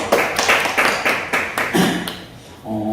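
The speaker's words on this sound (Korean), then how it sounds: "감사와 영광의 박수 올려드리겠습니다" A short burst of hand clapping from a church congregation, loud and uneven, fading out near the end as a soft musical tone begins.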